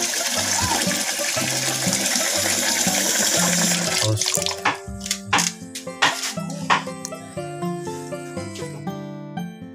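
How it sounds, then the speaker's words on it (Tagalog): Water runs steadily into a cooking pot for several seconds as it is filled to boil for ginataang bilo-bilo, then the flow stops and gives way to scattered clinks and knocks of kitchen utensils. "Papakaluto tayo ng tubig"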